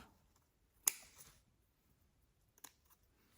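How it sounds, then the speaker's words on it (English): Scissors snip off excess material from a thrifted home decor craft piece: two quiet, crisp cuts about two seconds apart, with near silence around them. "if you don't like the way something is sticking out, just cut it off"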